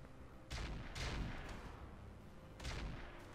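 Autocannon fire comes from mech combat in the Roguetech video game. Three heavy, booming bursts of shots land about a second and a half apart, loud and close over a low rumble.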